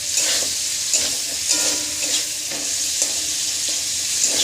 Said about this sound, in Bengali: পেঁয়াজটা যতক্ষণ না ব্রাউন হচ্ছে ততক্ষণ ভাজবেন।